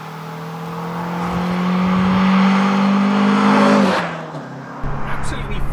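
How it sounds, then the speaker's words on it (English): A first-generation Mazda MX-5 engine revs up with a rising, buzzy tone, climbing steadily in pitch and loudness before the throttle lifts and the note drops away, heard from inside the car. "Absolutely fantastic throttle response from this engine as well. It's very nice and revvy up to 7."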